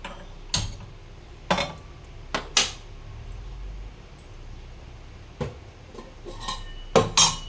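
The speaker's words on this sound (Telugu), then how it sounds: "అన్నం రెడీ అయిపోయింది, కిందకి దించుతున్నాను." A pot of cooked rice being lifted off a stove, a handful of sharp metallic clinks and clanks scattered irregularly over a quiet kitchen background, several clustered near the end.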